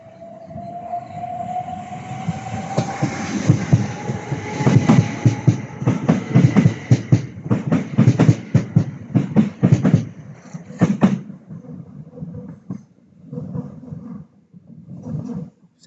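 Southeastern Class 375 electric train passing Sevenoaks station, a rising rumble with a rapid burst of rhythmic wheel clatter over the rail joints that fades away toward the end.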